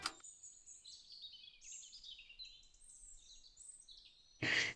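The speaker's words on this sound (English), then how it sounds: "Be really quiet and listen to the bird song." Birdsong in the woods: a thin, continuous run of high chirps and warbles, faint and fairly distant, with no voices, closing on a brief louder burst of noise.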